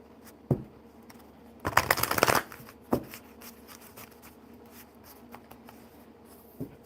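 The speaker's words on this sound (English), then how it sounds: "We're just playing with cards." Playing cards are handled and shuffled at close range, with a brief riffling burst in the middle and scattered soft taps and flicks before and after, fairly quiet overall.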